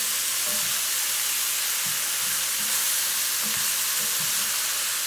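Chicken cacciatore fries in a pan with a steady, close sizzle and hiss, broken by a few soft scraping stirs at irregular intervals.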